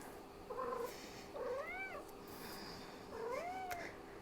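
A pet cat meows several times in a quiet room during a home vinyasa yoga session, with three drawn-out, rising-and-falling cries spread evenly over a few seconds, close by and fairly clear.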